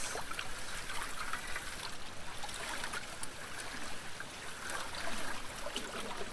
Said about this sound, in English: Then you dump it in the water and big swirls.